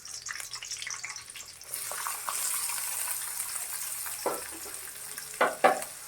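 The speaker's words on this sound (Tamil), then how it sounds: "வெங்காயம் நல்லா செவக்கிற அளவுக்கு வதக்கணும்" Three large onions for half a kilo of beef roast sautéing in a pan with green chillies and curry leaves: a soft, steady sizzle that rises partway through, with a few louder stirring scrapes near the end.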